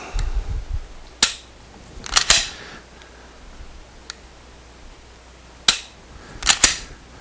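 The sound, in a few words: Smith & Wesson M&P trigger with Apex kit dry fired and resetting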